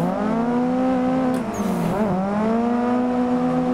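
Drifting race cars in a video game on a park track, engines droning loudly in a sustained tone with pitch bends and tire squeal woven through the roar.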